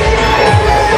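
A big crowd packs the Seth Ganga fair beside the bathing pond, a steady dense murmur with some cheering and children shouting, loud and continuous throughout.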